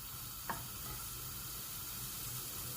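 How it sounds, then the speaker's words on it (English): Bacon sizzles in a frying pan, a faint, steady hissing crackle with a brief click near the start, heard alone without talk. "That famous bacon sizzle."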